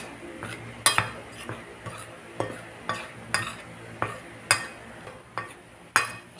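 Steady clinking and scraping as eggplant is stirred with salt and garlic powder, a utensil knocking against a bowl in a regular rhythm about twice a second, close and moderately quiet.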